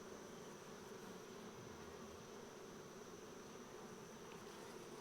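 Honey bees buzz inside an open hive during an inspection, a steady, dense hum held close and even for the whole stretch, with no talk over it.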